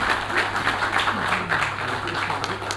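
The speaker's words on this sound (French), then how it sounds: "je pense qu'on va vous inviter encore une fois à applaudir" Audience applause at a Moroccan postal ceremony marking a pension fund anniversary and stamp issue, a dense, even wash of clapping that holds steady throughout with a low hum underneath.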